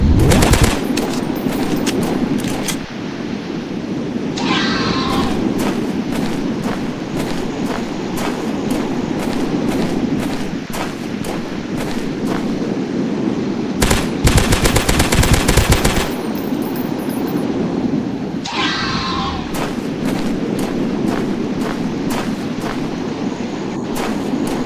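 Rapid gunfire aimed at dinosaurs in the Dinosaurs Hunter game, long loud rattling bursts of automatic shots with brief pauses between salvos, repeating throughout.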